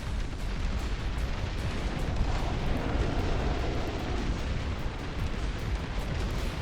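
Turrets firing in the Dust Front RTS game make a dense, continuous barrage of booming blasts and rumbling explosions that blend into a constant roar.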